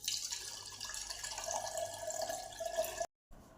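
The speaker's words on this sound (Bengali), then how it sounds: "ছেঁকে নেব।" Panakam, a chilled jaggery drink, is poured through a strainer. It makes a close, steady trickle and splash of liquid for about three seconds, then cuts off abruptly.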